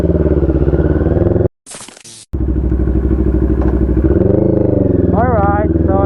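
A 2022 NK400 V4 motorcycle with an upgraded aftermarket exhaust runs on EDSA, giving a loud, steady, throbbing engine drone that cuts out briefly, then returns and rises into a rev.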